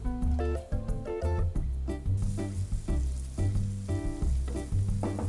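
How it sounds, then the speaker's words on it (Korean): Garlic and bacon fry in a pan over medium heat, with a loud, steady sizzle and occasional stirring scrapes. "마늘과 베이컨 넣어서 향만 내줄게요."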